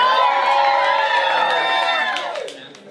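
Comedy club audience at Helium Comedy Club in Philadelphia cheers and whoops loudly in a dense, sustained burst that fades out toward the end.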